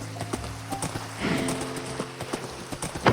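Horse hooves clip-clop in Minecraft, a string of light, evenly paced clops with a brief whinny-like swell in the middle, close and fairly quiet with no talk.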